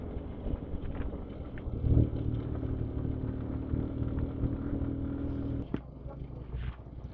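A motorbike rumbles and jolts along a rough, bumpy road beside a river, its engine a steady low drone with shuddering bumps and a louder jolt near the end, wind noise throughout.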